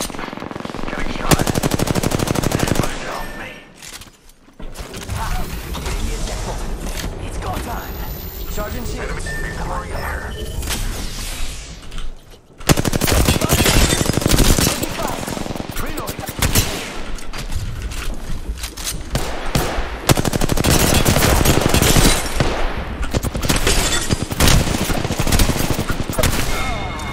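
Automatic gunfire in an Apex Legends match, loud and sustained across most of the stretch with a couple of brief lulls, bursts stacking into dense rattling volleys while a player talks over the shooting.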